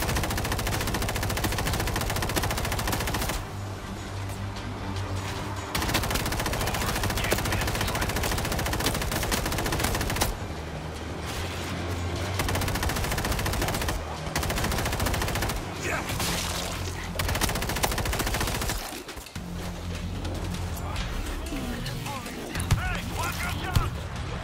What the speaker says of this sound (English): We're hearing gunfire from the river.